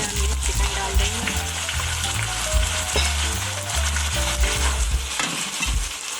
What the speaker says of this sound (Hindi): चिकन डालने के बाद हम इसको अच्छी तरह से भून लेंगे।